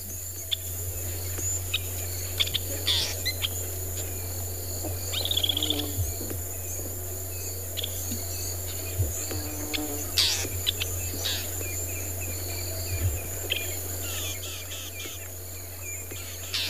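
Crickets chirp steadily in the African bush during an afternoon safari, a continuous dense drone with occasional bird calls and chirps scattered over it, and no talking.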